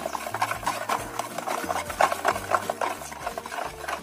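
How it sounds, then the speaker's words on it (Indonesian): Rice flour being stirred into coconut milk, a steady rhythmic scraping and swishing of a spoon against the bowl, close and moderately loud, with no talking. "Aduk tepungnya ini sampai benar-benar larut ya."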